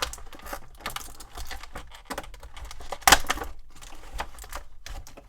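Plastic tie-downs on action figure packaging being snipped, a close series of small clicks and snips with rustling plastic, one sharper cut standing out midway; no talking.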